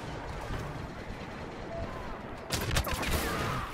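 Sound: gunshots in video game Star Wars Battlefront

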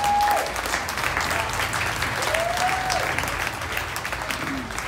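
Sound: audience applause at a live Elvis tribute show

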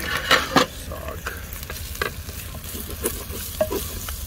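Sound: onions and spices frying and being stirred in a pan

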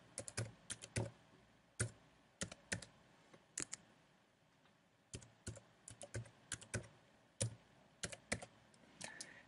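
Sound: typing a password on a computer keyboard

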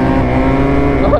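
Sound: two-stroke Yamaha Banshee ATV engine revving during wheelie

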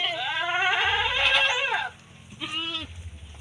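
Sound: goat bleating at a goat pen

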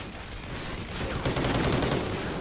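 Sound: gunfire in the video game Call of Duty: Ghosts

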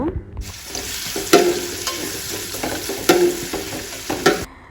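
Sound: chopped onions frying in hot coconut oil

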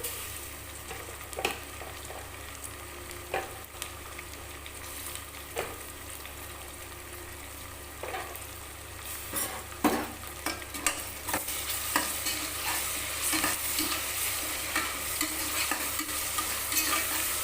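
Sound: tomatoes sautéing and being stirred in a pan

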